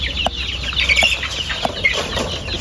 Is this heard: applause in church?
no